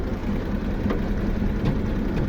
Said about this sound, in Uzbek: Motor to'rtta balon yangi, motor ovozini eshitdilang